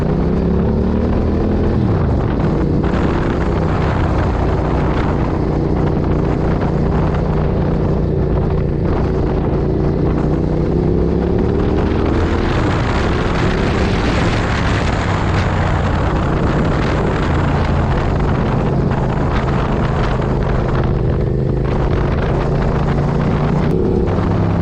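A Suzuki SV650 motorcycle on a test ride with adjustable handlebars fitted, its engine droning loudly and continuously under heavy wind rush, pitch rising and falling with the throttle, no talking.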